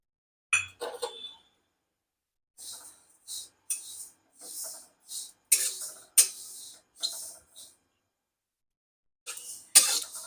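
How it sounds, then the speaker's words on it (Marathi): Sesame seeds being roasted in a kadhai over a medium gas flame: sparse, crisp scraping and faint clinking in short separate bursts, with near silence between strokes. "मध्यम गॅसवर तीळ भाजून घेऊ"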